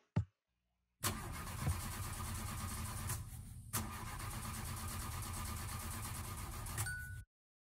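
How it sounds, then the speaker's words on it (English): A car-type engine cranking in Minecraft, a backup engine repeatedly trying and failing to start, with a steady loud churning that cuts out briefly mid-way and resumes, alone without voices. "The engine still won't start,"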